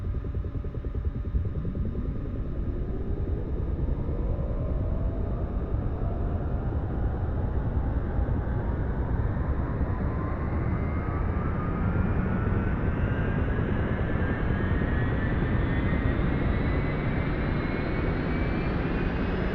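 A UH-1 Huey helicopter's turbine engine spooling up during a cold start in the flight simulator DCS World, its whine rising steadily in pitch over a loud, constant roar.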